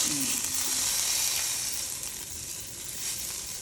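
Wagyu beef slices sizzling in a hot pan, a loud steady crackling hiss close by that eases slightly toward the end.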